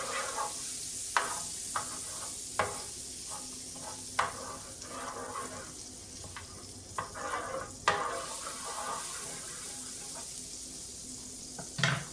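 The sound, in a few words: butter melting and sizzling in a pan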